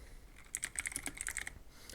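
Quiet computer keyboard typing on a PC: a quick burst of about a dozen light, crisp keystrokes in the middle, close and faint, with no talk.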